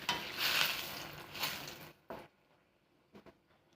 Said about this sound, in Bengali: তেলটা গরম হয়ে গেছে, এখন দিয়ে দিচ্ছি দুটো তেজপাতা,